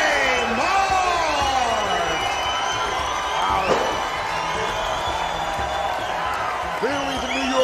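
A crowd cheers and whoops at an MMA fight night as fighters are introduced, loud and sustained, with an announcer's voice booming over the noise and scattered shouts rising and falling.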